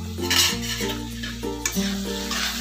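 A spoon scrapes and stirs an ivy gourd fry with coconut in a pan, soft sizzling under a steady hum of background music.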